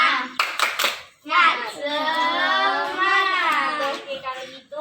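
A class of fourth-grade children in an Indonesian classroom does the 'tepuk semangat' clapping chant, a few quick rhythmic claps followed by a long, loud chorus of young voices chanting together.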